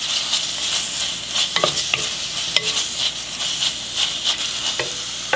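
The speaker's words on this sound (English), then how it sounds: "We're just gonna give them a quick stir fry." Fresh bamboo shoots stir-fry over medium-high heat with a steady hiss of sizzling oil, punctuated by sharp scrapes and clacks of a utensil tossing them in the pan.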